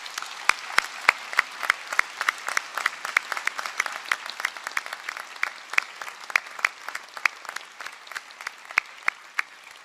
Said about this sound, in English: So I'd like you to give your family and friends a round of applause now for helping you